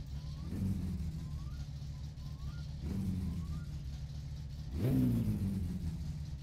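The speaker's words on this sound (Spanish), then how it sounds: "Como sube de revoluciones, ¿eh? Antes no subía así." The Satsuma's engine in My Summer Car revving three times, a steady mid-pitched idle that rises with each throttle blip and falls back, the last rev the strongest, with no voices over it.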